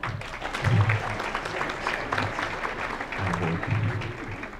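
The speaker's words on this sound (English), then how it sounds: "Let's have one final round of applause" Moderate audience applause at a county government address, steady clapping with low rumbling crowd noise throughout, not very loud and without a clear start or stop.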